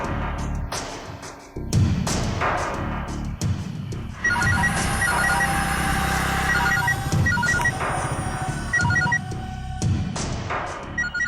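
A telephone bell rings repeatedly in steady bursts over a background music score in a Hindi TV serial scene, loud and continuous through most of the span.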